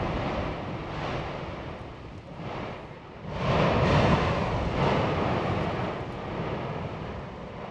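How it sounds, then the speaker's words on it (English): Strong wind gusts roar across the slopes of an active volcano, a loud broadband rushing that swells and eases in surges, buffeting the microphone with no voices. "Now the wind has turned against us and we're getting all the gas"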